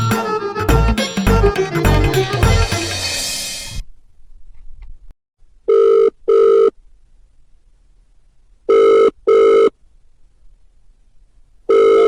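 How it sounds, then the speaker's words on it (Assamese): A telephone rings with an incoming call in a home comedy scene, sounding in short paired bursts with pauses between them. The rings follow a stretch of music that cuts off, and no one speaks over them. "ধুনুৱে আকৌ কিয় ফোন মাৰিলে"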